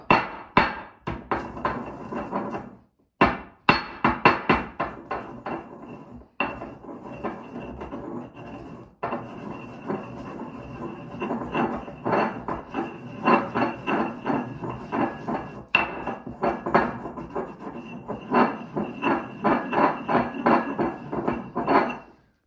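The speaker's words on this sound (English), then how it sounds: "Now let's get that salt nice and smashed up." A hammer pounds salt in a home kitchen, with sharp, irregular knocks in bursts and brief pauses. The blows ring against a hard surface with a slight metallic clink, steady and close throughout with no talking.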